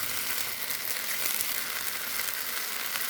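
Small fish fry in a pan of oil with chillies and bay leaves. The sizzle is dense, steady and close, an even hiss with no pauses or talk.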